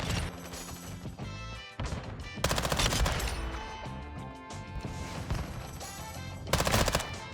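Gunfire in Call of Duty Modern Warfare 2 comes as rapid bursts of loud, close shots with crashing impacts, separated by brief lulls, over dense game sound with no speech.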